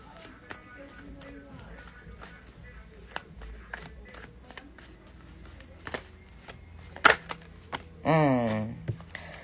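Tarot cards being shuffled make soft, repeated riffling and slapping taps in a quiet room, ending with a louder, longer riffle near the end.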